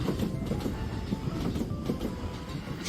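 A train rolls along rails in Japan, a steady close rumble with rhythmic clickety-clack of wheels over track joints and faint squeal, running alone for the whole stretch without voices.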